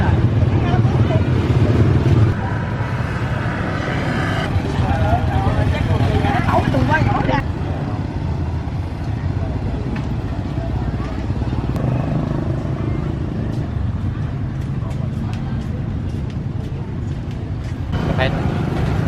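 Motorcycles and cars pull up at a busy street market where people stop on their bikes to buy chicken, fish, fruit and vegetables: loud, continuous engine rumble and idling close by, with clatter and crowd babble mixed in.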